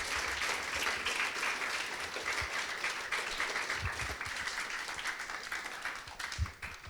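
An audience gives a speaker a round of applause at a talk session, many hands clapping steadily at moderate volume, with a few louder individual claps near the end.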